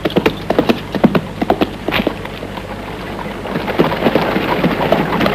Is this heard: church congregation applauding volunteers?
no